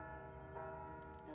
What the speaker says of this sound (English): Those bells, what does that mean?